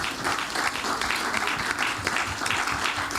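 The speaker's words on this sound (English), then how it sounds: "can we please clap for the panel?" An audience applauds a panel at a dialogue event, steady dense clapping throughout from many hands, filling the room evenly.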